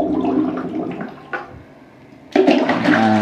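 Running water rinses chicken gizzards and livers, a steady splashing stream with a brief pause before a louder gush near the end.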